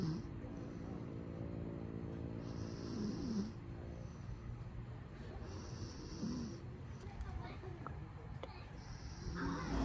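An exhausted person snores during a road trip, slow, rough rasping breaths that repeat under a constant vehicle rumble, close and fairly loud, with faint higher hissing bursts now and then.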